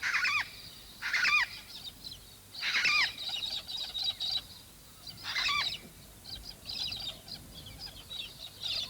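A small flock of cockatoos gives harsh, screeching calls in several bursts, fairly near and loud, with quieter calls between them over a soft outdoor background.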